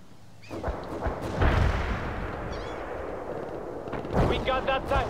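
Shoulder-launched rockets fired at a tank in the strategy game World in Conflict, with deep booming blasts and rumbling explosions over continuous battle noise, loud and close, with short radio-style voice chatter in between.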